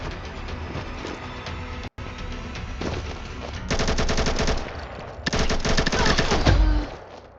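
Rapid gunfire bursts in a chaotic multiplayer shooter match, continuous and dense with louder volleys toward the end, a brief dropout near two seconds, and a voice faintly talking underneath.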